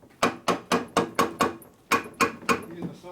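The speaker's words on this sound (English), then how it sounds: "Using the soft side of that hammer." The soft side of a hammer taps a Harley Shovelhead engine part during a rebuild in a steady rhythm, about eleven sharp knocks with a brief pause midway, close and clear.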